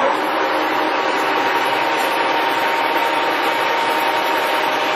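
A Leblond Regal 19-inch by 150-inch engine lathe runs at about 724 RPM, giving a steady, close, even mechanical hum with a faint whine that holds unchanged for the whole stretch, with no voices.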